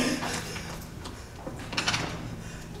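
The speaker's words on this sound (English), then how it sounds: "What is that knocking?" Knocking on a door sounds during a stage performance of Macbeth: a few dull, spaced knocks, fairly faint, set against steady theatre room noise.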